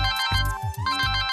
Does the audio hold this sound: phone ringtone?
yes